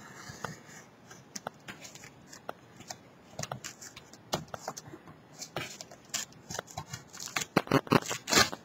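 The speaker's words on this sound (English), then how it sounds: "Then you want to take your X-Acto knife and you just want to cut all the way down." An X-Acto knife scrapes and cuts down a journal page in short, close, scratchy strokes that come quicker and louder toward the end, with a faint rip among them.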